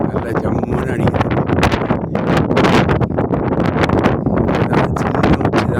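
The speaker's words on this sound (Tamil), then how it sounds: "காற்று நல்ல ஜம்முன்னு அடிக்குது." Strong, gusty wind batters the microphone on a small hilltop at Kondarangi hill near Dindigul, a dense, roaring rumble that surges and buffets without a break.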